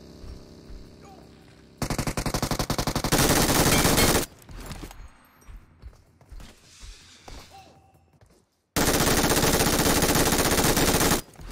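Bursts of sustained machine gun fire from an MG3 in PUBG Mobile, two long loud dense volleys separated by quieter scattered shots, thuds and movement, with a short silence before the final burst.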